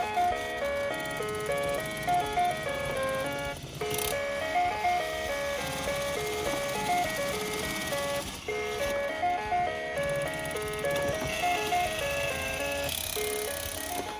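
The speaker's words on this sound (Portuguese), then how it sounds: "Começou a acelerar a música, Maria." Electronic melody from a toy claw machine, bright repeating tune playing steadily and loudly throughout with a brief shift partway.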